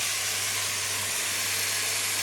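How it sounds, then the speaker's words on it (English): Steady, loud sizzling hiss of food stir-frying in a hot pan at 220 degrees, continuous throughout with a faint low hum underneath. "you can see I'm just stir frying"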